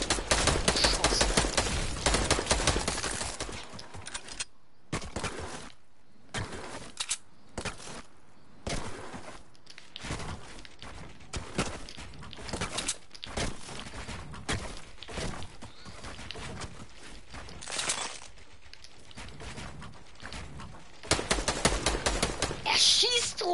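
Gunfire in Fortnite on PS4 Pro as a player shoots down from above: dense, loud rapid bursts of shots with short gaps between volleys, under occasional talk.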